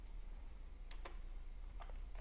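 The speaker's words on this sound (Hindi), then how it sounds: "यहाँ से टाइप कर लेते हैं रैंडम नंबर," Computer keyboard being typed on while entering numbers for a web project, a few faint scattered key clicks over a quiet hum.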